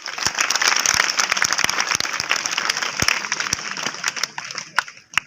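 Applause after a magic trick at a stage show, dense clapping from a crowd that thins out toward the end into a few scattered, sharp individual claps.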